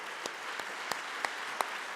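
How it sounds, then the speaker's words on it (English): Scattered applause after a speech by the Mayor of Paris honoring C40 city mayors, a handful of distinct sharp claps standing out over a soft, steady patter of hands at moderate distance. "please applause the mayors"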